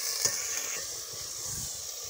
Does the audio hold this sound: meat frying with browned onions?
yes